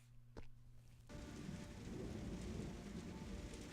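Rain and thunder in a video game: a low hum and a single dull knock, then steady hissing rain sets in with a deep rumble underneath. The sound is faint and distant, with no talking.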